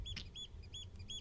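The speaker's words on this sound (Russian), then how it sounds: "Сраные птицы!" Birds in a Minecraft animation give quick repeated high chirps and tweets, faint and evenly spaced over a low background rumble.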